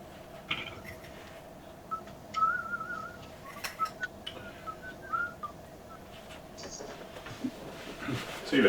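Short whistled notes from a person come and go over a steady background hum and scattered clicks, sounding moderately close and fairly faint, with a voice speaking briefly near the end.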